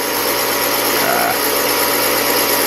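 A Frankford Arsenal case trim and prep center trims a brass cartridge case, giving off a steady, loud motor whine with a faint scraping of metal partway through.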